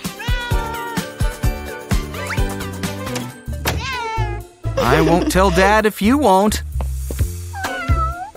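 A cat meows repeatedly up close, drawn-out wavering cries rising and falling, mixed with a voice speaking and a few dull knocks.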